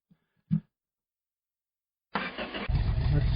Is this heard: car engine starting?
yes